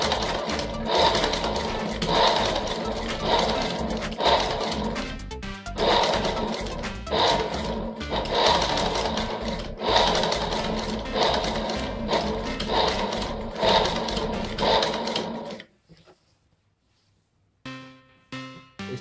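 A sewing machine stitches pleats into a petticoat in loud, close bursts of rapid mechanical whirring, broken by short pauses, then stopping near the end before a brief restart.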